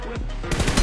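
Video game shooter gunshots crack out in a quick close burst of several rapid rounds, loud and dry, in under a second.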